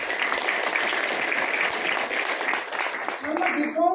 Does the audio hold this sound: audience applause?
yes